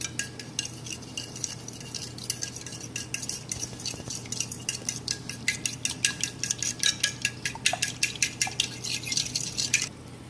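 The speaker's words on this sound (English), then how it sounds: "now just have to mix it well with a fork to get it fluffy" A fork whisks whipped topping in a bowl, with rapid rhythmic clinks of metal against the dish that grow quicker and more insistent toward the end. The sound is close and quiet.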